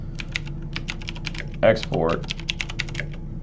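Rapid, close clicking of a computer keyboard runs steadily throughout, with a brief spoken word in the middle.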